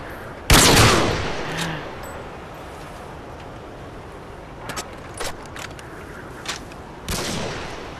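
A loud, close artillery shell blast in a video game opens with a sharp boom and rumbling tail, followed by scattered fainter distant shots and another heavy blast near the end.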